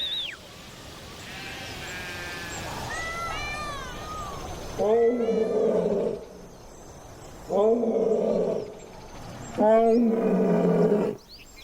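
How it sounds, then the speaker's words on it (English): A male lion in an Indian desert roars to claim territory, giving three loud, deep, drawn-out calls spaced a few seconds apart. Before them a goat bleats and a narrator speaks. "His roars tell rival males that this is his patch."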